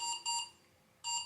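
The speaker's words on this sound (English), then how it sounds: "that's my alarm." A phone alarm rings in two bursts of bright, steady electronic beeping with a short gap between them, loud and close, no talk.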